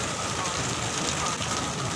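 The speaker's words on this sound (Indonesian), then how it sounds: "hujan deres banget iki" Heavy rain during a visit to Borobudur Temple in Java, a steady, dense hiss of downpour on surfaces filling the whole moment without a break.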